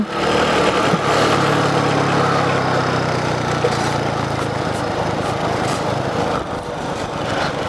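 A motorcycle touring the seaside streets of Ayvalık runs with a steady engine drone and a constant jangling rattle, like metal trays tied on behind, loud and continuous for nearly eight seconds.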